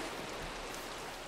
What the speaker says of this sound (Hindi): बरसात हो रही है बहुत जोर से